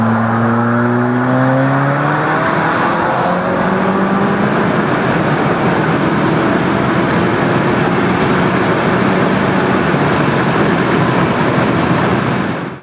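A Volkswagen Mk7 GTI with an IS38 turbo accelerates hard in third gear, its engine note climbing steadily in pitch over several seconds before settling into a loud, sustained roar with road and wind noise, then cutting off abruptly.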